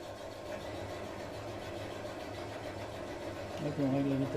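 A motorized honey extractor runs with a steady, fairly quiet mechanical hum, and a whining tone rises near the end as the speed shifts; a voice talks over it.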